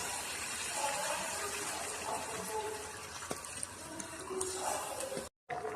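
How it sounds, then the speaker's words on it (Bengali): Water pours into a pan of cooked tomato masala for chicken dak bungalow curry, giving a steady gushing rush that holds for several seconds before a brief cut to silence near the end. "কষানো হয়ে গেছে, জল দিয়ে দেব।"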